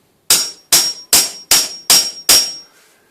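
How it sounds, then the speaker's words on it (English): An ordinary carpenter's hammer taps a chisel to cut metal in a DIY job: six sharp, evenly spaced metallic strikes, close and loud, each ringing briefly before the next, with no talk. "as I keep tapping with the hammer and moving the chisel along"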